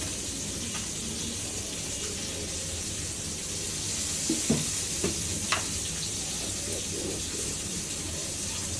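Oil sizzles steadily in a wok with a constant hiss, heating for frying green plantain, broken by a few sharp clinks and taps of a utensil.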